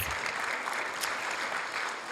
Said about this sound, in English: Let's give Norma a huge round of applause.